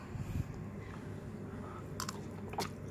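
Crunchy biting and chewing of Mama pad thai instant noodles, export version, close and fairly quiet, with soft squishy mastication and a few sharper crunches, no talking.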